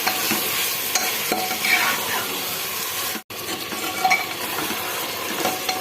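Goat meat frying in a pressure cooker with a steady hiss and sizzle while it is stirred, with scraping strokes close by and a brief break partway through.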